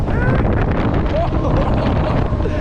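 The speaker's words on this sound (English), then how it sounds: "It's windy." Strong wind on a ski slope buffets the microphone in a continuous, heavy roar that stays loud from start to finish.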